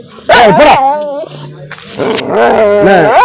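A Rajapalayam dog barks loudly and close by, with a few sharp barks and yips and a whining sound between them, while a man calls out briefly in the background.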